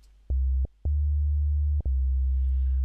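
A low, steady sine tone from an FM8 synthesizer routed through a filter, played as three held notes with short clicky gaps between them, loud and clean with no voices.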